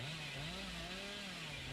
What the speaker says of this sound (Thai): เดี๋ยวผมเลื่อยหาตามประตูก่อนนะ เผื่อเจอเนาะ